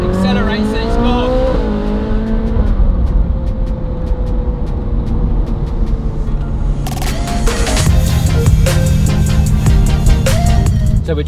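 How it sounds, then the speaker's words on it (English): A McLaren Senna supercar accelerates hard away, its engine note climbing loud and close, then shifting and surging again as it pulls off. "And then it accelerates and it's gone."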